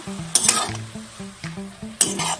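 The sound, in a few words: stirring spinach frying with chillies in pan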